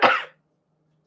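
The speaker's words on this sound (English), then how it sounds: "Coughed into my arm." A single short cough muffled into an arm, close to the microphone, followed by near silence.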